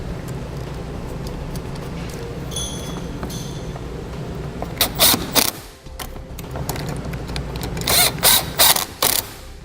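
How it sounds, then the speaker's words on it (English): A ratchet drives the top screws back in on a 2015 Ford Fiesta during a base plate install: close, rapid clicking bursts in short runs over a steady workshop hum. "we'll reinstall the top 2 screws"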